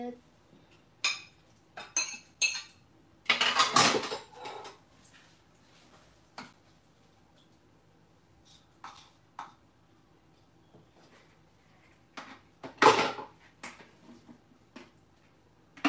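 Dishes, pots and cutlery clatter and clink in bursts during dishwashing in a home kitchen, with sporadic metallic knocks, some louder rattling flurries, and quieter gaps in between, heard up close.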